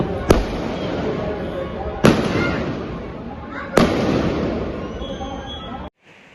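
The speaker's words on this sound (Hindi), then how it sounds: "पटाखे, बम, जो भी रॉकेट वगैरह जो भी होते हैं वो सब आप लोग देख ही रहे हैं।" Janmashtami firecrackers, bombs and rockets burst outdoors in three sharp, loud bangs a couple of seconds apart, each trailing into a crackling, rumbling wash.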